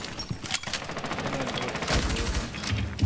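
Rapid automatic gunfire from a light machine gun in the Rainbow Six Siege tactical shooter, dense repeated bursts filling the whole stretch, loud and close with some faint game chatter underneath.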